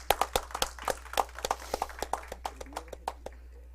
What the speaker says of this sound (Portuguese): eu vou pedir novamente palmas para a doutora Ivone Ferreira Caetano